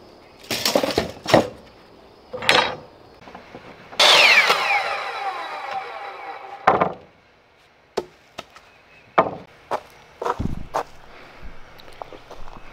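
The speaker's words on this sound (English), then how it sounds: "So I'm going to cut 29 inch pieces, should be able to get four of those out of one of these 10 foot boards." Ten-foot wooden boards are cut into 29-inch pieces for a fish cleaning table, with a power saw whining through one cut for about three seconds amid scattered knocks, board clatter and footsteps nearby.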